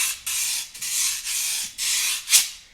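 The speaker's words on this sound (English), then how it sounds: "we use una puya, or peinilla, or comb, okay, with these thin wires. And when it's scraped, it sounds like sandpaper." A wire comb with thin wires is scraped over a ridged scraper in a plena percussion setting, giving five close, loud raspy strokes like sandpaper in a steady rhythm, the last ending in a sharp scratch.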